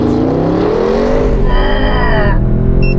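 An Audi RS6 tuned to 740 PS launches at full throttle under launch control, the engine roaring close and loud as its pitch climbs through the gears, with a clear drop at each shift.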